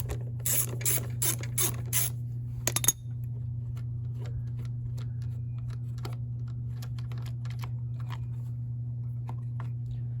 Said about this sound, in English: Then you're going to want to remove the air filter cover with a 5/16 socket.